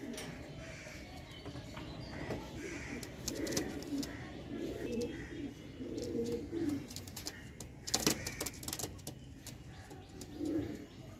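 Pigeons being kept for sale coo repeatedly at close range, their soft throaty calls rising and falling over a steady background hiss, with occasional sharp clatters and faint chirps mixed in.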